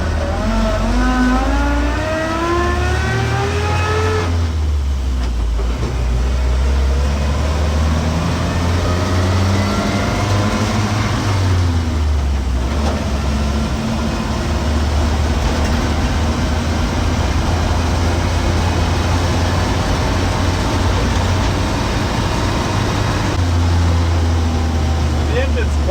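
A 1959 Land Rover Series II 109-inch pickup engine drones steadily while driving, its pitch rising and falling through gear changes with brief dips between shifts, loud and close throughout with a person talking over it.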